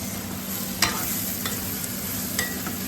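Aubergine curry is stirred in an oily pan, giving a steady close sizzle with occasional scraping knocks of the spoon against the pan.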